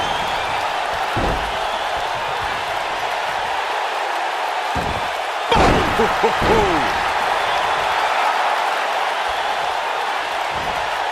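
A wrestler slams onto the ring mat in one sharp, heavy thud midway through, followed by a few rattling after-impacts, all over constant crowd noise and commentary.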